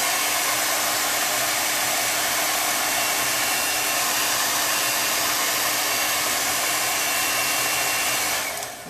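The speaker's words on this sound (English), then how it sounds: "So I'm just going to run the heat on this for a minute." Heat tool blowing steadily to dry ink on a fabric scarf, a loud, close, continuous airy roar that holds unchanged before it tapers off at the end.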